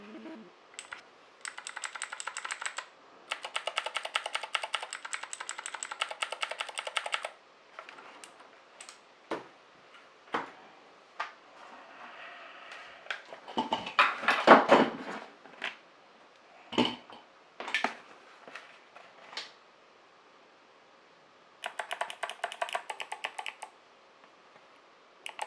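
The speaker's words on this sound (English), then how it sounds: "These keys are a lot more clicky on the Keychron K6, whereas the 8BitDo, it's a little bit smoother" Typing on clicky keyboard keys of an 8BitDo Retro or Keychron K6 keyboard, bursts of rapid crisp clicks close up, separated by pauses and a few single louder keystrokes.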